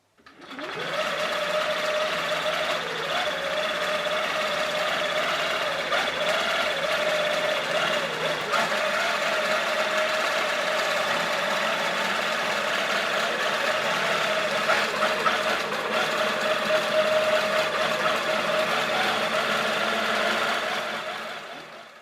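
A longarm quilting machine stitches a quilt in a steady, continuous mechanical whir with a rapid needle rhythm, running close and fairly loud without a break for about twenty seconds.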